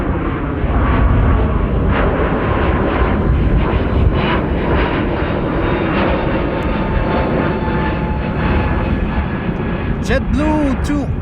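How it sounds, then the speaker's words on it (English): A JetBlue Airbus A321neo departs Amsterdam Schiphol Airport with a loud, continuous jet roar heard at close range, carrying steadily throughout while a voice speaks over it. "JetBlue to Boston, Massachusetts is underway. An A321neo."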